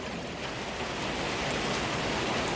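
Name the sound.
rain squall on a wet windy Pacific Northwest day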